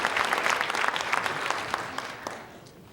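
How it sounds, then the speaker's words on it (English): An awards-show audience claps for a stretch at a live ceremony, individual claps standing out at first before the applause thins and fades toward the end. "You can clap for Old Glory again"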